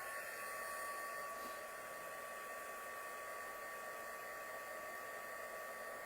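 A hair dryer runs steadily at close range for the whole stretch, a constant whooshing blow with a high motor whine and no pauses, drying the last damp bit as it finishes.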